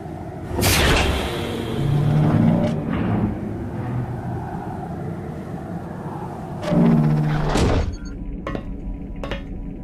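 A recording studio door opens and closes with a loud close swoosh and thud, then a quieter rumbling stretch and a second heavy swing and bang, followed by faint clicks.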